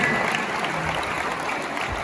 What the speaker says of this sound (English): Oh, clap for sir, clap for sir.